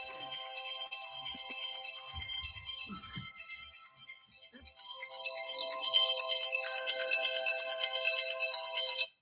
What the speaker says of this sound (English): My phone is ringing, so let's ignore it.